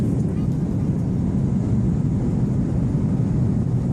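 Steady low engine drone fills an Etihad Airways airplane cabin before takeoff, a constant broadband rumble with no clear breaks and no distinct voices standing out.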